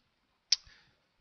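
A single sharp computer mouse click, close and crisp, with a short faint tail, alone in a quiet room while setting up mouse controls in GIMP.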